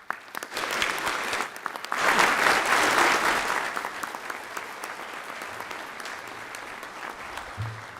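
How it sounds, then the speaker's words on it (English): Audience applause for criminal justice honor society inductees at a 2022 Troy University honors convocation, a steady burst of clapping that swells for a few seconds, then thins and fades. "Please round of applause for all these inductees."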